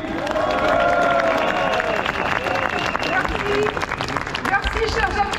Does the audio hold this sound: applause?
yes